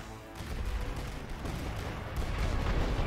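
Light artillery fire in The Great War: Western Front, heard as a dense, continuous rumble of distant guns and battlefield fire that stays steady and grows slightly louder near the end, with no talking.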